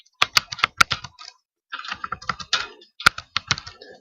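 Computer keyboard typing while configuring a router, with quick irregular bursts of key clicks, a brief pause, then more rapid keystrokes, close and clear.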